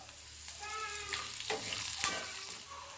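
Peanuts, urad and chana dal, black sesame and curry leaves fry in a pan for puliyogare powder, giving a close, steady sizzle with scraping stirs and faint clinks.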